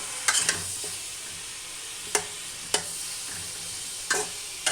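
Beef fat renders in a pan with a soft, continuous sizzle, broken by several sharp taps and scrapes of a spoon against the pan, close up and with no voices.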